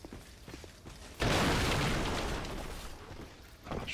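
A loud gunshot in Dark Souls 2 erupts and rumbles, decaying over a couple of seconds, with softer clicks before and a small pop after.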